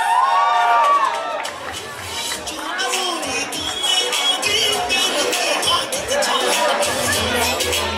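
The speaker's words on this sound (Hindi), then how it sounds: "राजकुमार राव, भाविका कपी के लिए तालियां गाइस" A crowd at a Hindi film trailer launch cheers and claps for the film's stars, with whoops and a busy hubbub of voices over steady, fairly loud applause, and people talking within it.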